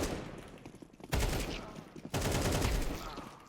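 Gunfire in a video game aim-training drill: two sharp, loud bursts of rapid shots, each lasting about a second, with quieter room sound between them.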